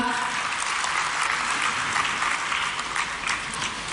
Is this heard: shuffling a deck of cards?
no